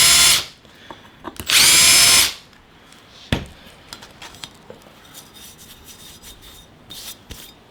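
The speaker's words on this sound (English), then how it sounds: "clean off the burrs from the drilling" A loud power drill whines in two bursts, then quieter scraping and rasping strokes follow as burrs are filed clean from the drilled metal holes.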